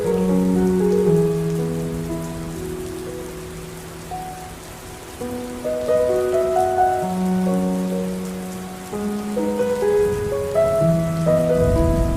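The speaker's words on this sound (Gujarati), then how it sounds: "અત્યારે છે ને વરસાદ આવે છે" Unseasonal rain falls in Junagadh with a steady, close patter on surfaces, while a faint melodic tone pattern drifts over it; no one speaks.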